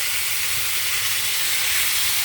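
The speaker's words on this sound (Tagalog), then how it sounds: "Ayan, inilagay na natin ang diced beef." Diced beef added to a hot pan, giving a loud, close, continuous sizzling hiss that stays steady from start to finish.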